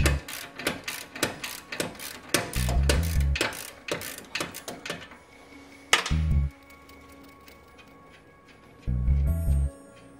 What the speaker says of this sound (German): Lösen Sie anschließend die Koppelstange vom Federbein.